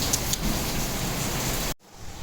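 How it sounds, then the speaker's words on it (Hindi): Early-morning heavy rain in Multan falls as a steady broadband hiss, with a couple of sharper drop hits near the start, before the sound cuts out abruptly and a faint rumble follows; no voices. "हुए तेज़ बारिश"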